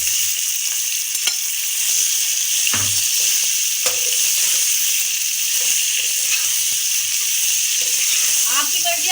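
Potatoes fry with curry leaves and crushed chili in a pakistani-style aloo chaat, sending up a constant close hiss of hot oil broken by a few sharp knocks of stirring.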